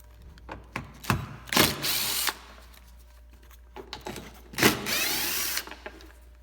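A power drill backs out T30 Torx screws from a Honda Fit rear bumper cover, with several short whirring bursts separated by pauses and small clicks, close and fairly loud.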